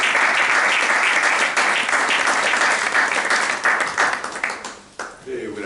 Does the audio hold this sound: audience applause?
yes